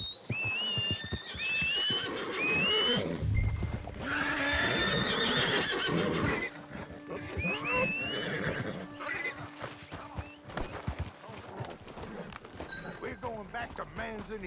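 Horses in the video game Red Dead Online, with loud whinnies and neighs and clip-clopping hooves amid game ambience, while people talk over the scene throughout.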